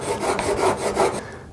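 A steel corner chisel is rubbed back and forth on a sharpening stone, giving four or five even rasping strokes in a steady rhythm, close and clear, before the scraping stops and fades to quiet.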